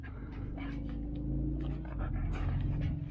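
A new puppy pants and whimpers up close in a garage during work on a 1969 Chevy van, quick rhythmic breathy huffs with thin whines over a steady low rumble.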